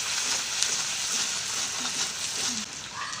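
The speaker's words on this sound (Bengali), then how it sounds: "আদা রসুন একটু 1 মিনিট মতন ভালো করে ভেজে নেব" Ginger and garlic paste fries in a pan with a soft, steady sizzle and crackle, fairly quiet and continuous with no voices.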